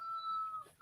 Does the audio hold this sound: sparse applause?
no